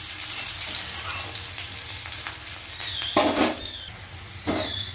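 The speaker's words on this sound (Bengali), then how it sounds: "পেঁয়াজ কুচিটা দিয়েও কিন্তু খুব ভালো করে মিশিয়ে নেব, আর একটু লালচে করে ভেজে নিতে হবে।" Chopped onion frying in a pan for a Bengali winter fish curry, a steady low sizzle running throughout with a couple of brief louder bursts of stirring or utensil scrapes near the end.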